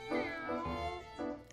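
A cartoon cat meows three times in quick succession, close and clear, with short bright cries and no other voices.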